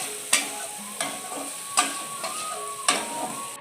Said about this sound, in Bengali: পরিমাণ মতন হলুদ গুঁড়ো, দিয়ে নেড়ে ফেড়ে ওটাকে ভালোভাবে কষিয়ে নেব।